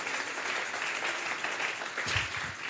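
A church congregation claps in a sustained, dense round of applause that swells near the end, with faint voices mixed in.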